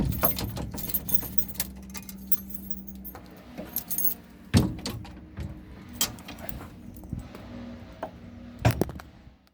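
Keys jangle close by in repeated metallic clinks and rattles, with sharp louder clanks among them, alongside handling noise.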